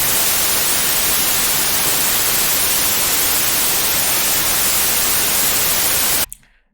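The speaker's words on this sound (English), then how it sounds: "the spectrum is just going to be complete white noise. So I'm just going to hit play." Loud, flat, continuous white noise fills the air evenly for several seconds, then cuts off abruptly into silence.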